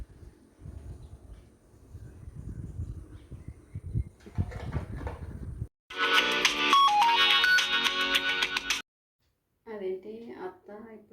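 A mobile phone plays the ringtone of an outgoing call, a bright melodic tone heard after someone speaks, followed by a brief pause and a second short burst of ringing.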